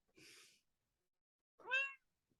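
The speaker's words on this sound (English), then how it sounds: "the other cat is making funny noises" Two short cat sounds: a breathy, hissy huff, then after a pause a clear, rising-and-falling meow, fairly close with silence between.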